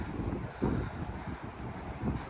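Strong gusting wind buffets the microphone outdoors in light drizzle, a steady broad roar with low rumbling surges that rise and fall without pause.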